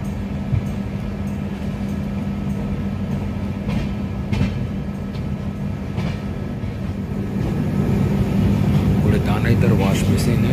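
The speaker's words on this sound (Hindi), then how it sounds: "अब ट्रेन ने मूव करना शुरू कर दिया है," Darshan Express train, 12494, pulling away from the station, heard from inside the coach as a steady rumble with rail clatter that grows louder and busier over the final seconds.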